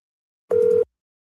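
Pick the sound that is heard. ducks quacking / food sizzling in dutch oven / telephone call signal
telephone call signal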